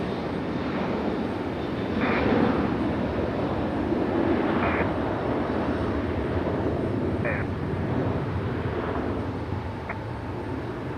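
An American Airlines Boeing 737 taxis at Raleigh-Durham International Airport, a steady engine roar heard from a distance under wind and broadband noise, with a few short tonal beeps.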